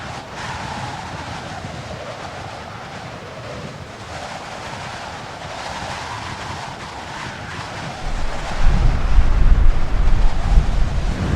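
Desert wind blows in a steady, loud roar over the microphone, with gusts swelling stronger near the end.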